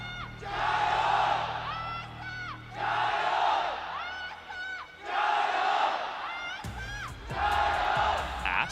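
A large crowd at an esports grand final chants and cheers in repeated rising waves, loud and distant-sounding, with short pauses between each roar.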